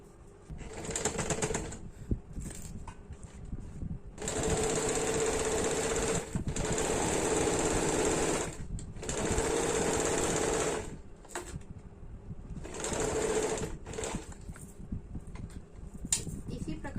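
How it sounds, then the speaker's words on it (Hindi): A sewing machine stitches a deep-neck kurti in several close bursts of rapid whirring, separated by short pauses. "अब इसको हम लोग सिलाई कर लेंगे।"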